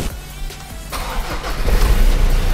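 A Ford Ranger pickup engine being started, the starter motor whirring briefly before the engine catches and settles into a close, rough, rumbling idle.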